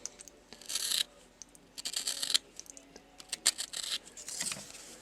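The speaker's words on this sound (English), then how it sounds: "I'm going to put a little more deeper cut in there" A knife carving a deeper cut into a wooden feather, heard as close, crisp scraping and shaving strokes in short bursts with quiet pauses between them.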